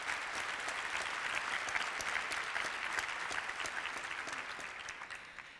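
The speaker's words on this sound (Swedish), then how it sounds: "En applåd för Internet World-redaktionen som ju ligger bakom webbdagarna." Steady, even applause from a seated conference audience at Webbdagarna in Stockholm, greeting the Internet World editorial team, a dense wash of clapping held at constant strength throughout.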